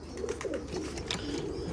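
Domestic pigeons coo softly and steadily in a loft, with low murmuring calls and a few faint rustles, with no voices present.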